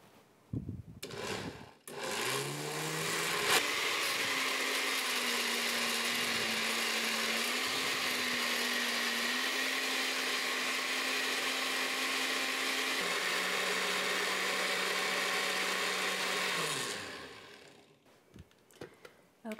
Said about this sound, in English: And just blend until it's very smooth.